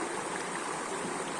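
A river stream flows in a steady, unbroken broadband rush of water at a micro hydro site, close and even throughout with no voices.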